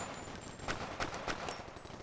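Assault rifle fire in the VR shooter Hyper Dash, a burst of sharp, punchy shots in an irregular rhythm over a steady background hiss, each report fairly close and loud.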